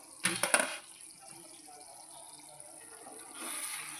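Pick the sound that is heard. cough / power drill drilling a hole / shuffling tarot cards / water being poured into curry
water being poured into curry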